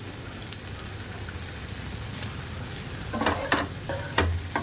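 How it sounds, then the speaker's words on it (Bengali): Pasta with tomato sauce, seasoned with Ajinomoto, frying in a pan under a constant sizzle, with a few sharper scrapes and clinks of stirring near the end, no talk. "একটু নাড়তে থাকবো।"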